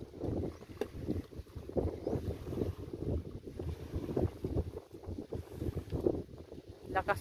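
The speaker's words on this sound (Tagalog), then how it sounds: "Lakas ng hangin dito." Strong wind at a beach buffets the microphone in a continuous rumbling roar, rising and falling in gusts outdoors.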